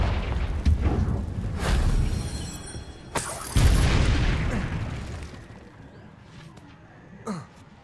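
A Confringo spell blast in Hogwarts Legacy: heavy booming explosions with rumbling low-end bursts, one sharp crack partway through, then the roar fading to a quieter tail, no talk.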